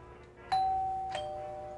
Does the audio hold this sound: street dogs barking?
no